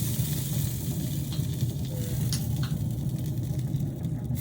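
Barbecue skewers and hotdogs sizzling on a grill at a poolside birthday gathering, a steady loud crackling hiss with low rumbling underneath and occasional faint clinks.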